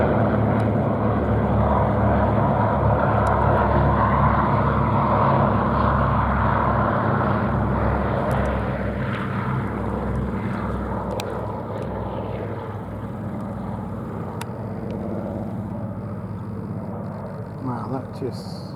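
Sally B, a vintage aircraft, rolling for takeoff at the Duxford air show, a steady droning propeller engine roar that is loud at first and slowly fades, with faint crowd chatter underneath.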